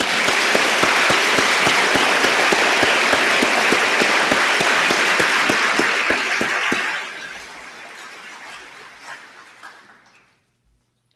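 An audience at the 6th International Barcode of Life conference applauds award winners with loud, sustained clapping that gradually thins out and fades to silence.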